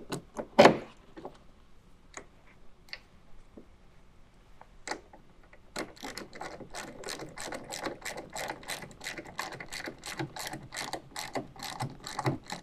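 Ratchet tightening a tonneau cover rail clamp on a 2017 Ford F-150 bed, a few scattered clicks and knocks followed by a steady run of quick ratcheting clicks, close and moderately quiet, no talking.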